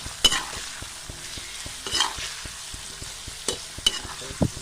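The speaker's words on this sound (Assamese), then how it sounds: "পুনৰ ভালদৰে আমখিনিৰ লগত মছলাখিনি মিহলাই" Raw mango pieces stirred with spices for pickle, a spoon scraping and knocking against the vessel in several separate strokes over a soft background hiss, with no voices.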